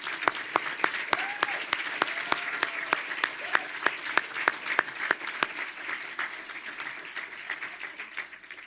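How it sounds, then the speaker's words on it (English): Scattered, fairly sparse applause at a college commencement ceremony honoring faculty and staff, with distinct individual claps ringing out in a room and thinning toward the end; no talking. "Please give the faculty and staff of MCAD a round of applause and thanks for their guidance and help."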